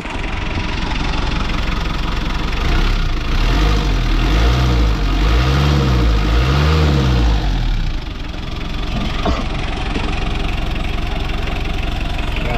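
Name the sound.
Hyundai H-100 van engine started and running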